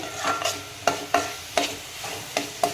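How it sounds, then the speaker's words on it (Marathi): Crab curry masala sautéing in hot oil, a soft sizzle punctuated by about six regular scraping strokes of a spatula in the pan, close and clear. "हे सुद्धा आपण दोन मिनटे परतून घेऊया म्हणजे याला चांगल्या प्रकारे तेल सुटेल"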